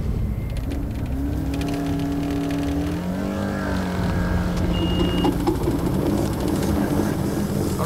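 A boat's outboard motor chugs steadily through a swamp choked with water lilies, its drone wavering in pitch as the fouled propeller strains, loud and close with no talk over it.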